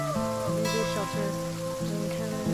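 Rain falls in the survival video game The Flame in the Flood, a steady hiss of drops laid under a tonal musical score with sustained notes and harmonics throughout.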